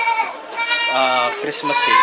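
Anglo Nubian goats on a goat farm give several nasal, wavering bleats close by, some short and some drawn out, while a person talks over them.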